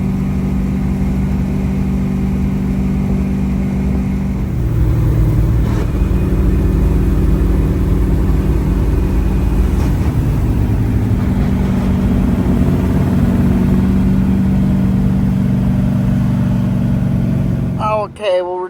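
A car engine runs steadily at close range with a low mid-pitched hum as the car pulls out onto the road, holding a constant drone throughout with little change before a brief clatter at the end.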